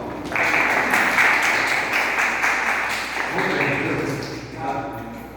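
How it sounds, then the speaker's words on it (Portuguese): Members of a church congregation give a burst of applause, a dense, steady sound heard up close for several seconds before it fades, with voices mixed in. "Salve palmas."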